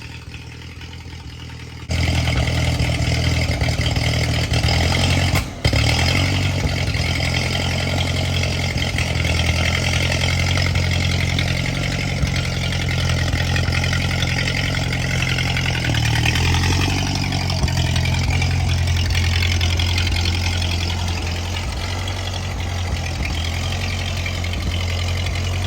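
An old 1949 Ford 8N tractor engine running on dirty fuel idles close by, running steadily and loudly for the whole stretch with a rough, uneven chug and one sharp click early on.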